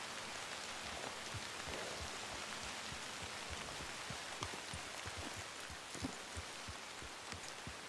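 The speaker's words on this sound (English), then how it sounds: "it is raining, it's pouring" Steady rain pouring down with scattered drops tapping on a surface, a constant hiss throughout.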